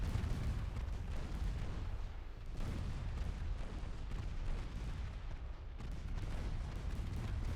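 Naval guns fire at a destroyer in the 1930 campaign of the game Ultimate Admiral Dreadnoughts, a dense, continuous roar of booming salvos with heavy low rumble and repeated blasts.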